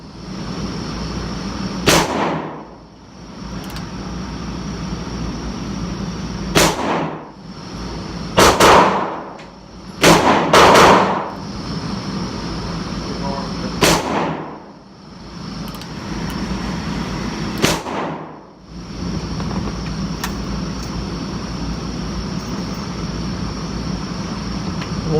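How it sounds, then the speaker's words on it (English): Smith & Wesson 586 .357 Magnum revolver fired at a range, with about seven loud, sharp shots spaced several seconds apart over a steady background hum. "Wanted to shoot my 586 today for Josh Benware"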